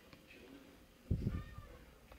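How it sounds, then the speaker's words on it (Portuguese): A kitten meowing faintly nearby during home beer brewing, a short soft mew in the middle of a quiet room, with a brief voice alongside. "E o gatinho tá ali que tá miando"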